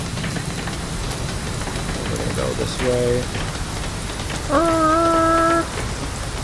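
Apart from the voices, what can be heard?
rain in the X-Plane flight simulator video game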